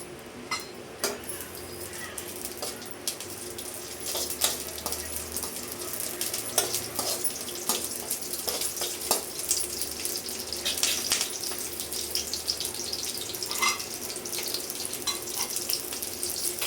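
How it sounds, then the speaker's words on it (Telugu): Green chillies fry in about two tablespoons of hot oil for a Telugu-style cucumber chutney, giving a steady sizzle and crackle with scattered sharp pops and faint clinks of utensils throughout. "ఇప్పుడు మన ఈ పచ్చిమిర్చి ఆయిల్లో ఫ్రై చేసుకున్నాం"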